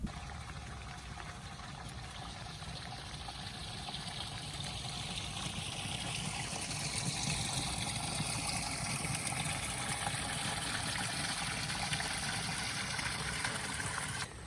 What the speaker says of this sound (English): It is backing the water up a little bit, but still flowing down through there.